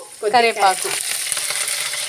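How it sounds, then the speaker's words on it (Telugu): A tempering of chana dal and dried red chillies fries in a pan with a steady close sizzle. An early burst of brighter spattering or a voice-like sound sits near the start. "ఇవన్నీ మనం వేసేసి ఇప్పుడు బాగా వేయించి చేసుకుందాం"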